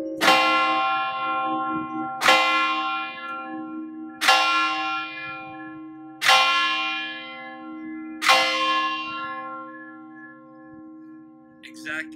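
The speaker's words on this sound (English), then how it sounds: "The sound of the bell." A large tower clock bell in Lucca's Tower of the Hours strikes five times, one slow stroke about every two seconds, each ringing out and fading under a low steady hum.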